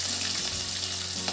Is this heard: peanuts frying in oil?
yes